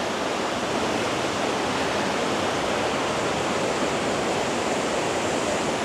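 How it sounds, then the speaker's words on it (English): Harmby Waterfall gives off a loud, steady, broadband roar of falling water that stays constant and unbroken throughout, with no voices. "I can't get over that waterfall."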